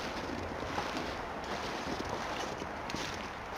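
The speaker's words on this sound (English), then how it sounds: "Wow, it's windy." Wind blowing in the survival video game The Long Dark, a steady broadband roar with gusty swells, continuous and fairly faint, without voices.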